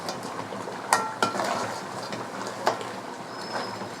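Crab masala being stirred in a pan, a scraping, clinking spoon-on-metal texture with a few sharp knocks against the pan over a steady sizzle, close by.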